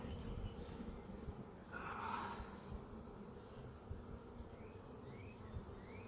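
Honey bees buzzing around a hive, a soft continuous drone with a brief louder buzz of one bee passing close, faint and without voices.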